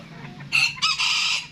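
Small bantam chickens cluck and let out short, high crowing calls close by, in a few quick bursts with quiet pauses between.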